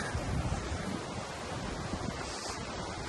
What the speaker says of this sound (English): The running water, right through the centre of Kilmarnock.